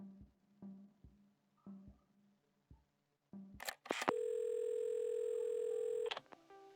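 A telephone dial tone from the video game Assemble with Care plays as one steady tone for about two seconds, after several soft handling clicks and a quick burst of clatter as the receiver is picked up.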